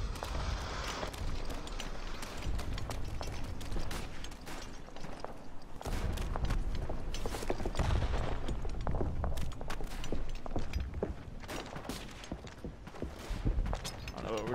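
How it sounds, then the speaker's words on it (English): Incoming mortar fire and gunshots in the trench-warfare game Verdun, with scattered thuds and crackling shots under steady talking from players. "Oh, we got mortars coming in."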